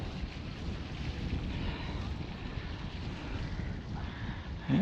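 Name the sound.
wind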